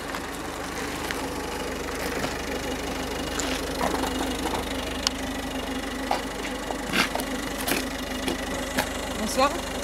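A car engine idles at a gendarmerie roadside check, a steady low rumble with a faint knocking pulse and scattered clicks, close and continuous under occasional distant voices.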